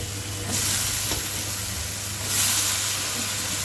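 Eggplant pieces go into a pan of sizzling spice paste for a traditional Bangladeshi begun chorchori, bringing loud surges of hissing over a continuous frying sizzle.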